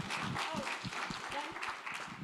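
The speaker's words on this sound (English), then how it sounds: "let's give her a round of applause" Audience applause at the end of a software testing talk, a steady patter of clapping from a modest crowd with some voices mixed in, moderately quiet.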